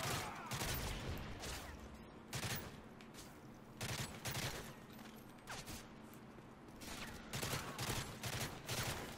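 M16 rifle fire in MW3 Survival on the Bakaara map, repeated bursts and single shots scattered across the stretch, moderately loud amid a busy game battle background.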